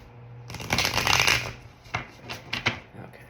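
Sticky tarot cards are shuffled by hand in a burst of riffling, then a few sharper separate slaps and flicks, close and clear with no speech.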